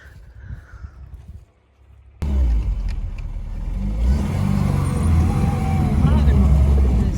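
Car driving across a farm field during a beet harvest in a Ukrainian village: after a quiet start with faint talk, a loud engine roar cuts in and keeps building as the vehicle moves, with rumbling and jolts over rough ground.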